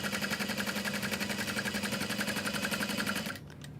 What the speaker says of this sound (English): And then I will sew around that. Starting at the bottom, we're gonna backstitch.